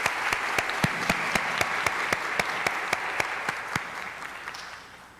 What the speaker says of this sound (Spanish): les pido un fuerte aplauso para Fray Nelson.